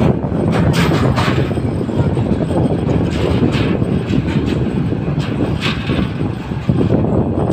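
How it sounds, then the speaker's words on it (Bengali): Lalmoni Express train crossing the Jamuna river bridge, heard from on board as a loud, unbroken heavy rumble with a faint rhythmic clatter of wheels throughout. "লালমনি এক্সপ্রেস ট্রেনে যমুনা নদী পার হলাম।"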